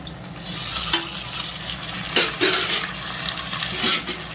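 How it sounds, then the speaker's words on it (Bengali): Onion and tomato frying in hot oil in a home kitchen pan, a steady close sizzle and crackle running throughout with a few brief louder spits and pops, no talking. "এই টমেটোটা এবার ভেজে নিই, পেঁয়াজ আর টমেটো ভেজে নিয়ে ভালো করে লাল লাল করে ভেজে নিই"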